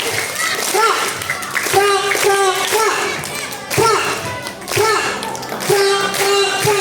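Schoolchildren at an Isra' Mi'raj gathering clap their hands together in unison, sharp repeated claps falling in a rhythmic pattern alongside loud music and voices.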